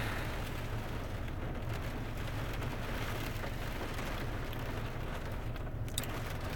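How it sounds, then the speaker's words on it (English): Heavy rain pours down outdoors in a windy storm, a dense, steady, unbroken wash of noise that stays even and fairly loud throughout. "it's raining like crazy over here"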